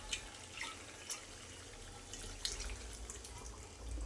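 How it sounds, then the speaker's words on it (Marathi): Chickpea cooking water poured into a simmering chole curry, a soft continuous splashing and trickling stream with faint drips, quiet and steady without talk. "त्यामुळे मी यामध्ये टाकणार आहे पाणी."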